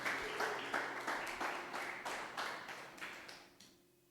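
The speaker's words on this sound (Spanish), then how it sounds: "Denle un aplauso al Señor si usted está firme." Church congregation clapping together in a rhythmic series of bursts, moderately close, gradually fading toward the end with no talk over it.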